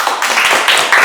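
Brief burst of audience clapping for a student named Adit during a polytechnic teaching lecture, dense and close, with no talk over it.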